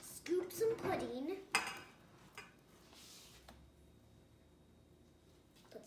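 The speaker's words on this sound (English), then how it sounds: "We'll scoop some pudding." A spoon scrapes and clinks in a dish while chocolate pudding is scooped, a few sharp clatters in the first seconds followed by quieter handling noise.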